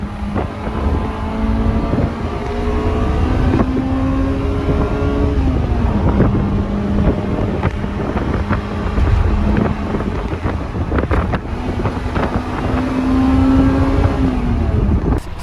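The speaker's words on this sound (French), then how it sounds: "On entend juste le moteur gueuler quand t'es dans les tours" Honda Integra Type R engine revving hard toward high rpm, a loud rising harmonic whine that climbs, drops with gear changes and climbs again, steady and close with wind rush and no talking.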